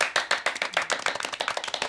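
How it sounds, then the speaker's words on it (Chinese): Applause from a small group of guests at a wedding, brisk and fairly close, a dense run of overlapping hand claps that holds steady for under two seconds without any talking. "此刻掌声响起"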